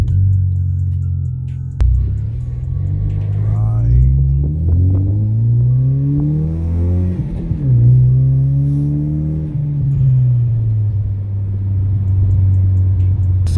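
A Ford Mustang S550 fitted with an aftermarket short shifter drives on the road, its engine a steady close rumble whose pitch climbs and falls through gear changes as it accelerates, with no talk over it.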